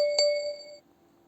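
A mobile phone notification chime cuts in during an Empires and Puzzles match, a single bright ding that rings for under a second and then stops, standing alone with no talk over it.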